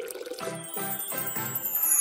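Water poured into a hollow plastic doll, a trickling, gurgling pour with rising bubbly tones, close and fairly loud, with no talking.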